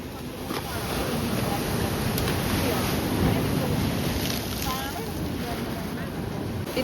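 Sea waves wash steadily onto a beach at Azheekal, a broad continuous roar of surf with wind buffeting the microphone throughout, loud and close with no talk.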